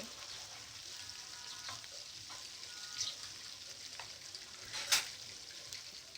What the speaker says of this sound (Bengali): চিংড়ি মাছ এখন আমি আরেক পাশটা ভালোভাবে উল্টিয়ে দিচ্ছি এ পাশটা ভালোভাবে ভেজে নিতে হবে